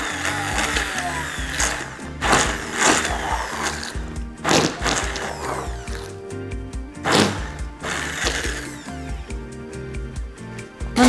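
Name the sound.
blender blending baby porridge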